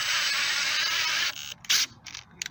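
A power driver bit loosening a screw spins with a steady, loud mechanical whir for about a second and a half, then breaks into short, choppy ratcheting bursts.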